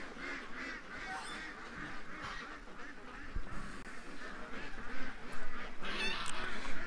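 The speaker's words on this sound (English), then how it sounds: "Oh, little cute duck." Ducks quack and honk repeatedly on a wet, damp morning, their calls overlapping at moderate distance over a steady outdoor background.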